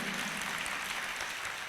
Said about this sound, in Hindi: हाथ ताली बजाइए अपने लिए